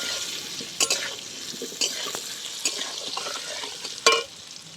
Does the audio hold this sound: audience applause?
no